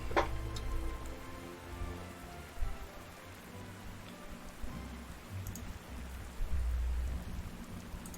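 Steady rain pours down in the strategy war game Panzer Corps 2, a dense continuous hiss of drops on surfaces with a few soft low rumbles, no voices.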